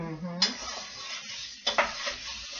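Onions and garlic fry in a pan while being stirred, a soft sizzle running throughout with two louder scrapes of a utensil against the pan near the start and again midway.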